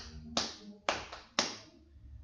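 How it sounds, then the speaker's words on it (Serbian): Three sharp hand claps spaced about half a second apart, close and fairly quiet, with no talking over them. "Imamo jedan aplauz Stefan Đurić Rasta."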